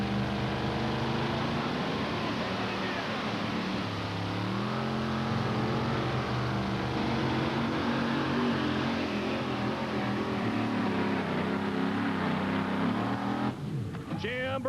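A 1908 Chevrolet C-Cab two-wheel-drive pulling truck roars continuously at an NTPA tractor pull in Hildreth, Nebraska, its loud engine straining and shifting pitch throughout while an announcer's voice comes over the top.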